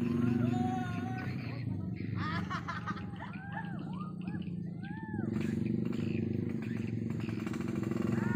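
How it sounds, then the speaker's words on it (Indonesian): A motorcycle engine rumbles steadily in the background at a kite-flying contest while several people talk and call out over it, voices rising and falling. "Itu Bapak Budi tu yang bawa motor kan."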